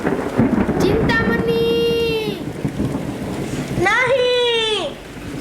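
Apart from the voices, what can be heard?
storm with thunder and rain at night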